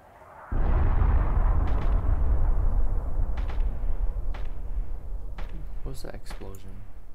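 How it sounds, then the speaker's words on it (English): A sudden, loud explosion in the video game DayZ bursts in after half a second and rumbles on as a long, dense roar, with scattered sharp crackles and some voice-like sound near the end. "What's that explosion?"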